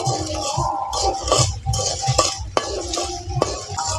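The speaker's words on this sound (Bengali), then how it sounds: "বাদাম দেওয়ার সঙ্গে সঙ্গে এইভাবে করে নাড়াচড়া করতে হবে" Peanuts in their shells are stirred through hot salt in a pan over a fire, giving a continuous gritty scraping and rattling with sharp clinks of the utensil against the pan, close and fairly loud, with no talking.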